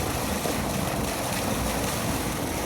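Water gushes steadily from the outlet pipe of an Alpex 3 HP solar pump, a dense continuous rushing roar, close and loud, with no voices.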